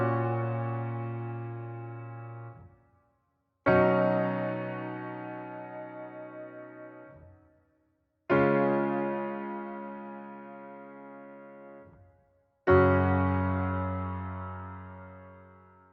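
Piano playing the verse of a worship song slowly, four sustained chords, each struck once and left to ring and fade before the next, fairly soft and alone.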